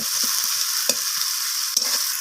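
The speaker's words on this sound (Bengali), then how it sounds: "টমেটো আর পেঁয়াজটাকে আমি আবারও ভাজা করে নিচ্ছি" Oil sizzles steadily as onion and tomato fry in a pan, with a few sharp scrapes and stirring clatters breaking through the hiss.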